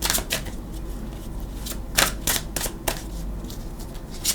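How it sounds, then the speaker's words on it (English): Tarot cards are shuffled in several quick riffling bursts, close and fairly quiet, with brief pauses between them. "Let's give them a couple shuffles, even though they're pre-shuffled."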